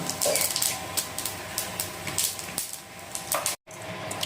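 Half a teaspoon of whole cumin seeds fries in hot oil in the same oil used for potatoes, making a soft, busy crackle with scattered ticks and light clinks. A brief dropout of sound occurs near the end, and no one talks.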